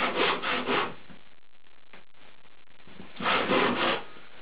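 Hand saw cutting timber beside a tenon during wooden window repair, two bursts of close rhythmic rasping strokes separated by a quiet pause.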